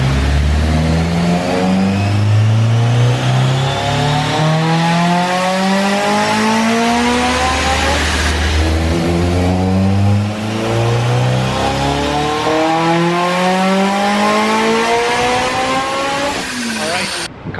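A loud, high-performance Honda S2000 engine revs hard on a dyno through rising pulls, dropping and climbing again, held at full throttle close by for a long stretch.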